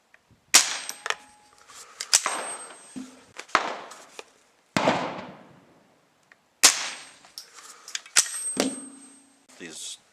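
Sharp, fairly light cracks from a .22 LR AR-15 rifle ring out one at a time, about six spaced shots with short echoing tails and faint handling clatter between them.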